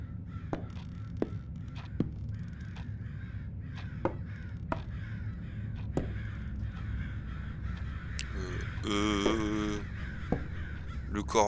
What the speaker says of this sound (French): Le corbeau là,